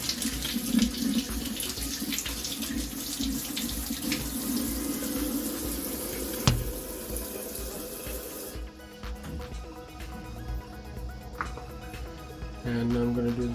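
Green chilies rinsed under a running kitchen tap, a steady close rush of water splashing into a sink, easing off partway through before resuming.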